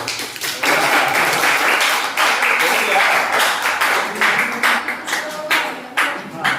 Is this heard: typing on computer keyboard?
no